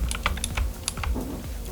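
Keys clatter on a computer keyboard as code is typed, a quick irregular run of close, crisp clicks with short pauses, no voice over it.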